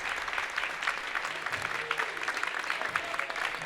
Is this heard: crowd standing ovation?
yes